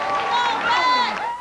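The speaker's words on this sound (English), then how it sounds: "They cheer for it all here." A crowd at a 1996 county fair cheers and whoops in a brief, loud burst of many overlapping voices, with a few high shouts rising above the mass.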